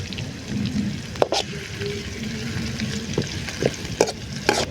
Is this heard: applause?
no